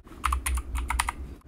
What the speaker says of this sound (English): we have to type this as